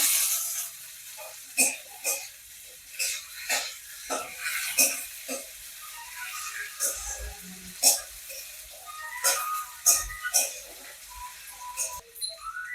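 Green chilies and tomatoes fry in a pan with a steady sizzle, broken by repeated sharp scraping stirs of a spatula, close and moderately loud, with no talking.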